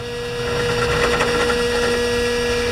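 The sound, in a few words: drill press drilling a hole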